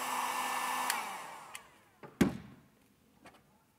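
A heat gun blows steadily at close range while warming a 1-inch ballast hose to fit a 1-1/8 inch fitting, then cuts off and leaves a few short knocks and handling clunks as the hose is worked.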